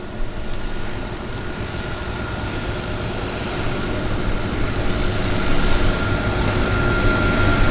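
A de Havilland floatplane at Vancouver Harbour, its engine drone steady and slowly growing louder as it nears, with no talk over it.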